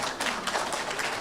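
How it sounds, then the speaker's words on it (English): School audience at a 5th grade awards ceremony clapping for award recipients, a brief burst of many hands patting together in a soft, continuous wash. "Go ahead, you can clap."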